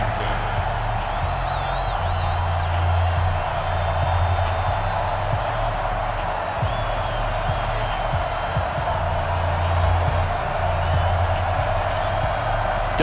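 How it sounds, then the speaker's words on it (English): Stadium crowd in Madden NFL 20 roaring steadily ahead of a Redskins versus Ravens game in Washington, a loud continuous wash of cheering with a low rumbling bed throughout and no clear gaps. "this crowd is pumped up as their Redskins get set to match up with the Baltimore Ravens"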